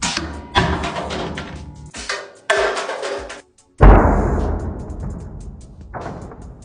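A smartphone, an iPhone 17 Pro Max or Samsung S25 Ultra, dropped onto its corner from 1.5 meters: a single sharp, loud impact with a brief rattle, preceded by scattered handling taps and thuds.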